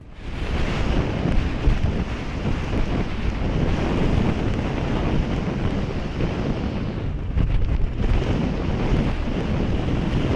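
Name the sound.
storm wind and crashing sea waves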